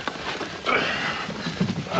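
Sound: horse neighing

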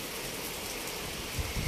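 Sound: rain falling

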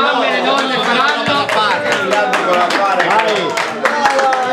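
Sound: applause for the children's prize-giving

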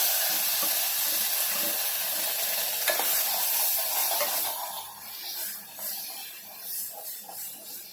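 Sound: ground onion and coconut paste frying in a pan

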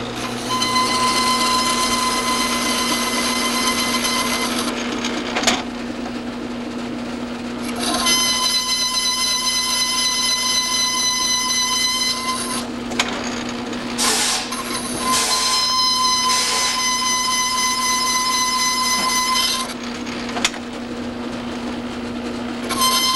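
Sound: machining stainless steel Harley-Davidson valve part

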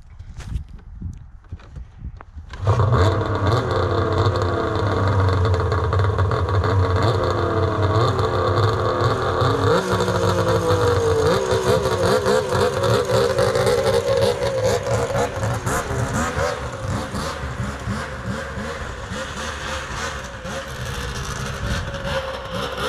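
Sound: Polaris XCR 800 triple snowmobile engine starting and revving

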